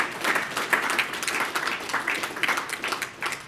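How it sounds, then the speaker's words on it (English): An audience at a producer panel on succession planning applauds a panelist, steady, dense clapping from many hands that holds at an even level throughout, with no voices standing out. "Let's give him a round of applause."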